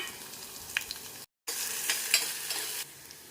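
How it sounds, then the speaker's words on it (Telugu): Green chilies and onion frying in a pan with cumin and mustard seeds for an ash gourd and grated mango dal, giving a steady close sizzle with stirring scrapes, briefly cut to silence midway, then resuming louder. "పచ్చిమిరపకాయలు, ఉల్లిపాయ వేసుకొని వేయించుకోవాలి."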